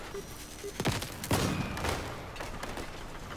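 Vehicle gunfire in the Crossout game crackles out in a few sharp bursts, loud and close, then trails into quieter rattling shots and a low rumble.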